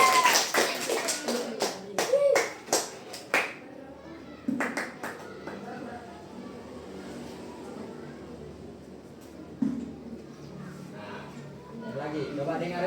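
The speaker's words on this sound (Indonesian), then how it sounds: "tepuk tangan dulu" Children clap their hands in a classroom during an English lesson, a quick burst of sharp claps followed by scattered later claps, with a teacher's voice and kids' chatter around them.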